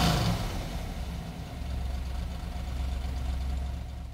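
Classic Mopar muscle car V8 idling after a cold start with a mild cam, a loud, close, steady low rumble with a gentle uneven lope, no voices.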